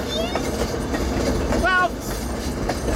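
A holiday excursion train rumbles past close by with rhythmic clattering and a brief squeal of wheels, loud and steady, while people talk faintly underneath.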